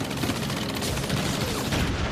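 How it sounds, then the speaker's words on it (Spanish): Gunfire played through loudspeakers by special forces to fake a bigger attack during the Normandy landings: a dense, continuous crackle of rapid shots and bursts with no pauses, heard alone. "las fuerzas especiales emitían el sonido de disparos a través de altavoces para"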